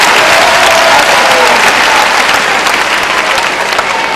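Loud, dense audience applause fills the whole stretch, a steady wash of many hands clapping close and without pause.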